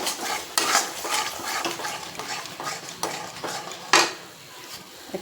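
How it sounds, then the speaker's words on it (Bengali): A spoon scrapes and clatters against a pan as paneer and vegetable curry with salt is stirred over a soft sizzle, with close, repeated scraping strokes and a sharper knock near the end. "নুনটা দিয়ে ভালো করে নেড়ে নেবো"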